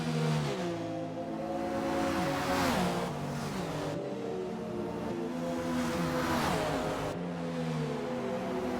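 Prototype race cars, a Porsche battling a Jaguar, scream along in a 24-hour Daytona racing game, their engines whining high and climbing through repeated upshifts in a steady, continuous drone.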